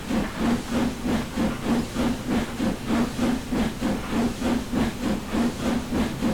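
A steam locomotive in the Train Simulator game, an overhauled engine on the Keighley and Worth Valley Railway, gives rhythmic chuffing hisses in a steady even beat, moderately loud and with no voices.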